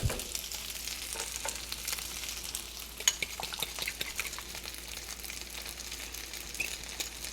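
Beaten egg frying in a well within chicken fried rice made with rotisserie chicken, a steady close sizzle with irregular stirring scrapes and spatula taps against the pan, no talking.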